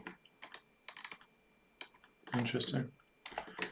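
Keyboard shortcuts are tapped on a computer keyboard in quick irregular clicks, with a denser burst of keystrokes in the middle, close and quiet, and a brief spoken word.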